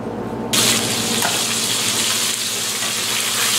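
Flour-and-seasoning-coated beef pieces for a crockpot stew hit a hot pan and break into a loud, close sizzle that stays dense and steady after a quieter start, with no talking.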